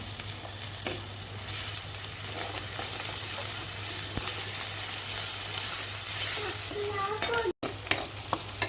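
Onion fries in a pan for a curry served with chapati, a close, steady sizzle with stirring scrapes and a low hum beneath, briefly cut off near the end.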